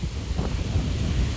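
Sea waves wash onto a beach in Vietnam, heard as a steady low roar of surf mixed with gusty wind buffeting the microphone, loud and continuous with no voices.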